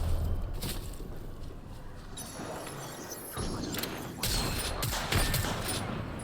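Gunfire in the Apex Legends battle royale game comes in several sharp bursts over a steady background of game noise, with no talking.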